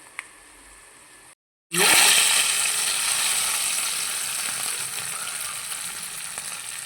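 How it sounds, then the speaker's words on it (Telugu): Hot tempering (talimpu) poured into gongura onion dal, with a brief hush followed by a sudden loud burst of sizzling that hisses steadily and slowly eases off. "పప్పులోకి మనం తాలింపు వేసేసుకుందాం."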